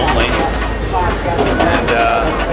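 A crowded, standing-room-only commuter train rolls bumpily through Colombo, Sri Lanka, with a loud constant rumble and rattle of the carriage, clattering knocks and a dense wash of passenger noise throughout.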